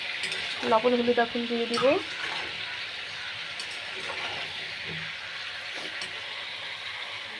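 Vegetables frying and sizzling in hot oil in a home kitchen, a steady broadband hiss with stirring clatter near the start, while a person talks over it.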